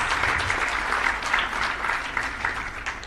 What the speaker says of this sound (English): A big round of applause to all our guests and the jury members.